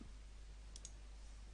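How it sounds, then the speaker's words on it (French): Two quick, faint mouse clicks sound close together, a double-click over a quiet computer hum while using XenoDream fractal software. "Je clique ensuite sur la fin du gradient deux fois"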